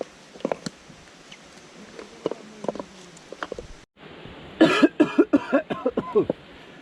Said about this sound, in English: there's a lot of smoke to enter in my mouth. Okay, that's why I'm coughing.